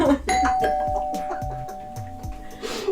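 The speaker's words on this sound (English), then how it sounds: "Don't answer the doorbell." A doorbell rings with a sustained electronic chime near the start, while people talk over it.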